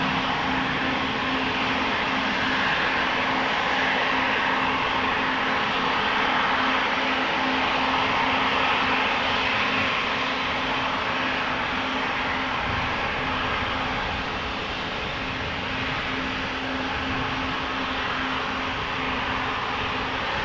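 A KLM Embraer 195 airliner, three years old and bound for Munich, gives a steady airport hum with a sustained engine tone and a broad hiss at Amsterdam Schiphol, continuous and moderately loud, easing slightly near the end, no voices.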